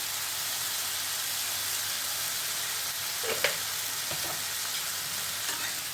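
Potatoes with salt frying in a pan for aloo fry, a steady loud sizzle throughout with a few stirring scrapes near the end.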